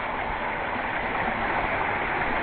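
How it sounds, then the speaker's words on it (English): Waterfall along a walking trail, a dense steady rushing roar of falling water, continuous and fairly loud with no talk over it. "And that's where the waterfall is."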